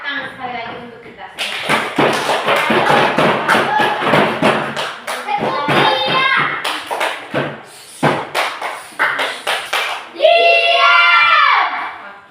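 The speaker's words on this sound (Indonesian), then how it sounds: "Tepuk tangan sekali lagi untuk kita." Classroom of students clapping in a long burst of applause, with loud, dense hand claps and some voices and shouts mixed in, fading out toward the end.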